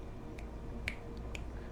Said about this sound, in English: snapping my fingers because I'm drawing a blank in the head